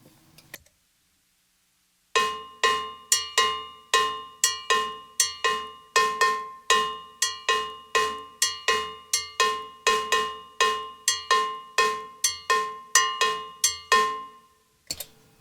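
A cowbell struck in a steady, syncopated Mozambique funk pattern, with bright metallic hits repeating evenly, played alone, close and clear after a brief pause.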